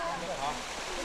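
Jikso waterfall on the Byeonsan Peninsula in Buan, above the pool at its base, pours with a steady, dense rushing roar that fills the whole moment without a break.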